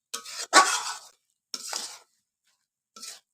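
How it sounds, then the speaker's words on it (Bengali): Thick khesari greens curry being stirred in a pan, heard as three separate bursts of scraping and clinking, the first longest and loudest, with silence between. "এবার ভালো করে এটাকে নাড়ায় নাড়ায় কষাতে হবে, ঢাকনা দিয়ে দিয়ে, যেন তরকারিটা মাখো মাখো হয়।"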